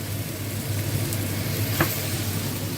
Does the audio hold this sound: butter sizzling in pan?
yes